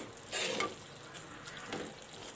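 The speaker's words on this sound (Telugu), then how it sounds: "స్లో ఫ్లేమ్లో పెట్టి కాసేపు ఇలానే కలుపుతూ ఉండాలి. దీన్ని ఫ్రై చేస్తూ ఉంటే ఆయిల్ అంతా పైకి వస్తుంది" Tomato curry frying in oil over a slow flame while a spoon stirs it, soft steady sizzling with a few brief scraping bursts, faint and close.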